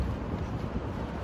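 Strong outdoor wind buffets the microphone in a steady, rough low roar with no breaks, close and continuous on a hot, dusty day in Dubai.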